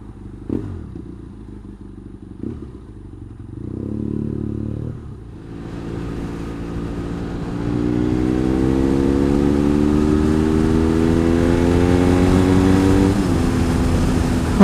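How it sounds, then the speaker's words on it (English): A motorbike on the road idles and blips, then pulls away and accelerates hard, engine pitch climbing steadily through the gears, loud and close with wind rush behind it. "Oh, the joys of a motorbike."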